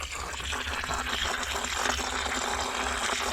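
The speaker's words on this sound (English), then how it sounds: "there you can see how it drains down and out." Water drains down and out of a yard hydrant, a steady rushing, gurgling flow that stays fairly constant throughout with no talking.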